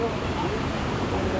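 Steady rushing water fills the scene, a continuous broadband roar like a waterfall, with faint voices mixed in beneath it.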